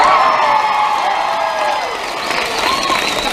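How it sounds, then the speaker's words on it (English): A Comic Con panel audience with James and Oliver Phelps bursts into loud, sustained cheering and applause, a dense crowd roar with whoops throughout. "Bigger cheer than you got."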